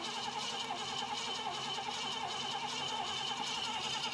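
A flooded 1978 Mercury Marquis engine cranks over with its spark disconnected, a continuous, fairly loud rhythmic churning of the starter that never catches, with no one talking.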